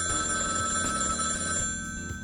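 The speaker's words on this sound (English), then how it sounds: "Phone rings." A hotel reception telephone rings with a steady electronic trilling bell, near and sustained for about two seconds, fading slightly at the end, with no talking.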